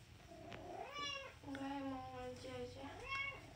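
A cat in heat gives drawn-out, rising and falling meows, three or four long yowls close by with brief gaps, a voice murmuring faintly in the background.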